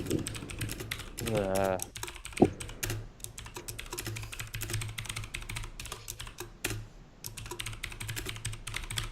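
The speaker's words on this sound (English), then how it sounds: "You have a very loud mechanical keyboard." Rapid clacking of a loud mechanical keyboard during an online tabletop role-playing session, heard close up and continuous, with voices talking over it and a brief sharper noise partway through.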